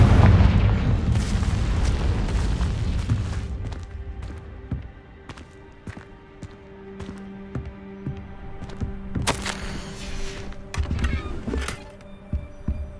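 Spell explosion from the Confringo blasting charm in Hogwarts Legacy: a loud, heavy boom with a rumbling tail that fades over a few seconds, followed by scattered sharp impacts and crackles.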